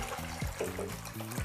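Ice cold water from the fridge pouring into a container in a home kitchen, a steady low trickle and splash running throughout at moderate level.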